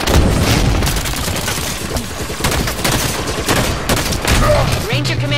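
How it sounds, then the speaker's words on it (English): Halo 5 Guardians Warzone battle: a grenade blast and bursts of rapid gunfire crackle loudly and continuously, with booms layered through dense firing and low game effects near the end. "Throwing grenade!"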